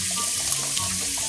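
Water pours steadily into a pan of frying smothered pork chops, a continuous splashing rush with faint sizzle beneath, close and fairly quiet throughout.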